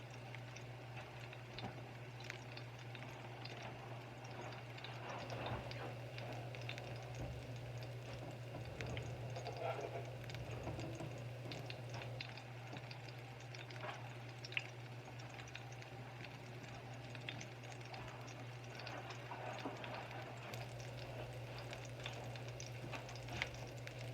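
Beyond Burger patties fry in a pan of oil, giving a faint, steady sizzle with scattered small pops and crackles throughout.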